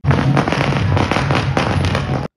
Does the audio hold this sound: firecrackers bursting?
yes